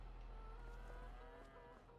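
Cows mooing in the farming video game Farming Simulator 25, a continuous low drawn-out moo with harmonic tone, fairly loud and close, with no talk over it.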